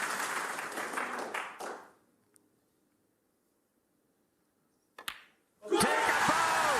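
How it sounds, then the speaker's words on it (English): A snooker crowd at the World Championship final bursts into loud, dense applause for a maximum break. The clapping cuts off into near silence, then surges back at full strength. "just listen to this crowd"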